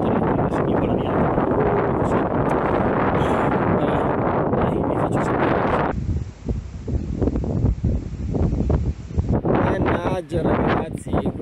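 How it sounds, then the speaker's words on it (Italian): Strong gusty wind batters the microphone outdoors beside a bike path near a tree, a loud roaring rumble that briefly thins and then surges back with the gusts. "spero che cali un po' il vento perché è veramente fastidioso"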